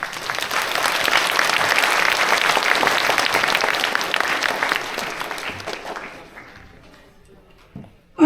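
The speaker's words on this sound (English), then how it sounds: "we can still applaud them in spirit" Concert audience applauding loudly and steadily for several seconds, then tapering off into a few scattered claps, with a brief sharp knock at the very end.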